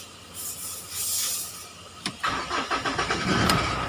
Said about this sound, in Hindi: गाड़ी चालू करके एक बार दिखा देते हैं।